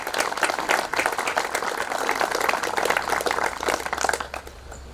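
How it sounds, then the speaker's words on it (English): A crowd applauds the family and the planning department at a Delphi Falls ribbon-cutting ceremony, with dense, steady clapping that carries on for several seconds before thinning slightly at the end. "So I think a round of applause both for the family and for the planning"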